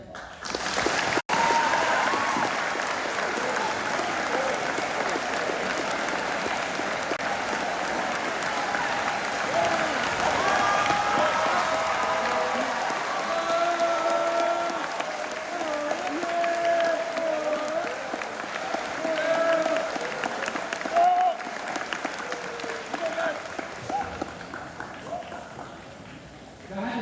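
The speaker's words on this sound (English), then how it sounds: "Please give him a round of applause" Sustained audience applause for guest speaker Father Matt Hebert at a Veterans Day Mass, a steady dense clapping that runs the whole stretch with voices carrying over it.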